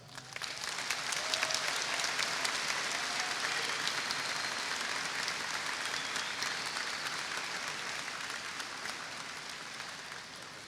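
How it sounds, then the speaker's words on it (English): A large crowd at a university commencement ceremony claps in a long, steady round of applause, heard from a distance in a big space, easing slightly toward the end. "Let's give him a round of applause."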